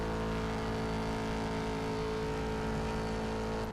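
A sports car engine in the mobile racing game CSR2 holds a steady, loud, high drone with no pauses before it cuts off at the end.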